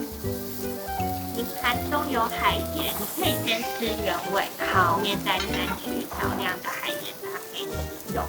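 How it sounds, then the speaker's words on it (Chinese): US beef short rib sizzles loudly and steadily on a hot volcanic stone, crackling spatter running throughout, while a person speaks over it. "这种滋滋作响的声音最诱人了。"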